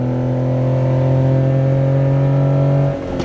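Honda Beat kei sports car at full throttle, its small engine droning with a steady, loud, even tone that holds for about three seconds and then drops away as the revs fall.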